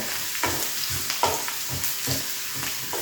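Chicken liver adobo aromatics and ginger sautéing in a pan, with a steady sizzle under repeated soft scrapes of a spatula stirring every half second or so, close and moderately loud.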